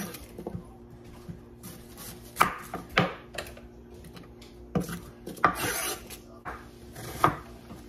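Knife chopping vegetable scraps on a cutting board in a home kitchen, a series of irregular crisp thuds and cuts with short pauses, close and fairly quiet, no talking.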